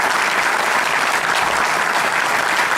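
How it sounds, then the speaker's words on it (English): Loud, steady audience applause fills a formal felicitation event, a dense wash of clapping hands that continues without pause from start to finish. "Please give him a big round of applause, ladies and gentlemen."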